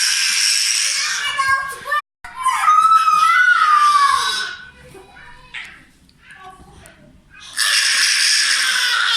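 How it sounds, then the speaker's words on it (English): A child screams in shrill, high-pitched bursts that break off briefly and return loud near the end, with other young voices heard in between. "See, your brother is screaming."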